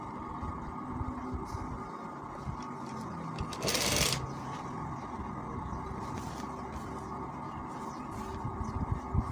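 A sewing machine stitching the side seam of a kameez runs in a steady, continuous mechanical whir up close, with a brief louder burst partway through and no talking.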